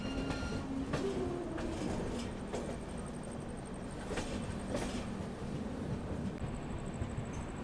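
Poorvottar Sampark Kranti Express train running along the rails and picking up speed, with steady rumbling wheel noise, rhythmic clicks over rail joints and faint high-pitched squeals, heard from aboard the train with no talk.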